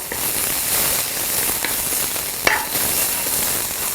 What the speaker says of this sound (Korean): 빠른 팬에 이렇게 아주 강한 불에 빠르게 이렇게 볶아주세요. 그래서 색깔까지 그대로 살아있을 수 있도록 먼저 야채를 볶아주세요